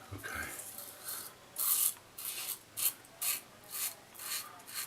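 Gillette shaving soap being lathered with a brush, giving soft, rhythmic rubbing swishes, about eight strokes, fairly quiet and close, with no talking.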